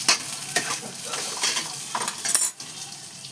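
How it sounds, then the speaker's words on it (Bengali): Sliced onions frying in oil to a deep golden birista for biryani, with a steady loud sizzle broken by several sharp scrapes and clinks of a spatula stirring against the pan, no voices. "ভালো করে বেরেস্তা করে নেব।"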